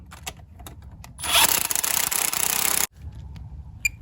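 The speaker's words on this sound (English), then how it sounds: "I've got the impact still on power setting 1. So I'm just gonna run these in very gently." An impact wrench on its lowest power setting runs in intake bolts on a 2003 Toyota Highlander V6, one loud continuous whirring burst of about a second and a half amid light clicks of handling.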